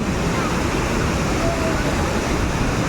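Tinuy-an Falls in Surigao del Sur roars as a steady, loud wash of falling water with no break.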